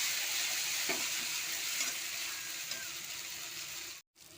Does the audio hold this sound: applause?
no